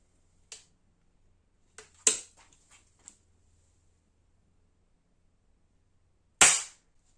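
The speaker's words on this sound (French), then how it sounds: "je vais tirer juste par terre pour voir" Blow H01 4.5mm air pistol of about 4 joules fired at the ground: sharp isolated cracks, one near the start, a louder cluster around two seconds with small rattles after it, and a final strong shot after a pause, in a quiet room.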